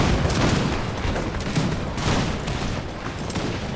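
Massed musket volleys in Empire: Total War, a dense continuous crackle of many overlapping shots, loud and steady, with repeated rolling surges.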